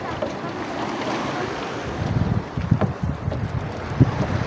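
A Robin engine drives a small fishing boat at sea, its steady low chugging hum mixed with wind buffeting and water wash, close and loud, with a few sharper knocks.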